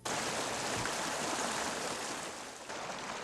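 Rushing floodwater from pounding rains washes out rural bridges, heard as a steady, dense broadband roar of flowing water. It is fairly faint and continuous for a few seconds, with no voices.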